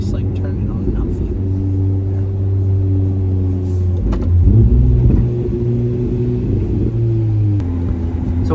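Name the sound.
Ferrari 296 car driving on Monaco circuit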